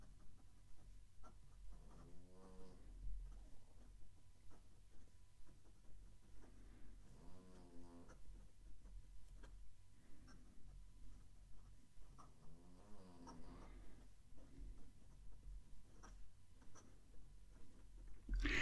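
A fountain pen nib moves across Deskbandit paper, a soft, quiet scratch in short bursts as words are written, with faint breathing and little else around it.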